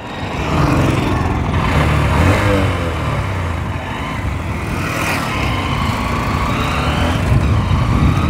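A 2024 Honda SP 125 motorcycle with a 125cc engine and five-speed gearbox accelerates hard toward top speed, a loud, sustained engine drone climbing in pitch, with wind roar close to the rider.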